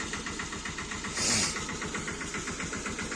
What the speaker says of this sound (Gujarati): અને ટ્રેક્ટરે આવી ગયું